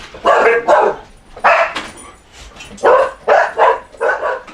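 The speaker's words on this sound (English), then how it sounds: "Dogs flip the fuck out whenever they hear the fucking slightest hint of activity outside" Indoor dogs bark loudly in repeated pairs and bursts, reacting to activity outside, with short pauses between volleys and no talk over them.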